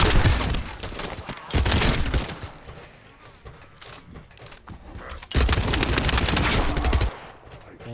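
Rapid automatic gunfire from a weapon in The First Descendant video game blasts in long, dense bursts, loud and continuous, easing off into a quieter stretch before another heavy barrage resumes.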